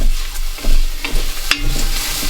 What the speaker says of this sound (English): Right, now in with the garlic. I'll just stir that around.